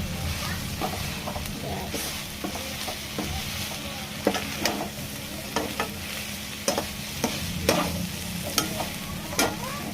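Baby corn fries in a pan with a steady sizzling hiss while a utensil stirs it, scraping and clinking in irregular knocks close by throughout.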